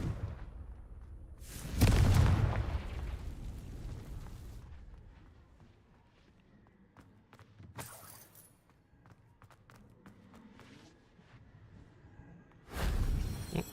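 A Confringo blasting spell goes off in Hogwarts Legacy, a loud booming burst early on followed by a fading rumble, with a couple of sharper cracks later and another heavy blast near the end.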